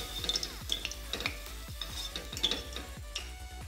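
Mixed vegetables frying in a pan as paneer curry is made, a soft sizzle under repeated clinks and scrapes of a spoon stirring against the metal, fairly close.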